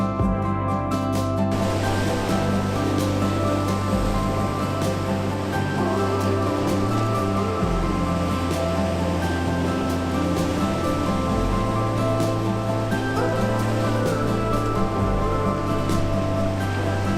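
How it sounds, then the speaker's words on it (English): Ocean waves break and wash steadily along the Northumberland shore at sunrise, forming a loud, continuous roar of surf with no voices. "And there's a good wave coming in here now."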